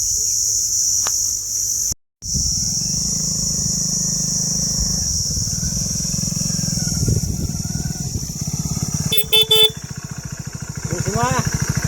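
A motorcycle engine runs with a steady low drone through most of the stretch, briefly cutting out near the start, while people talk over it and insects chirr in the background.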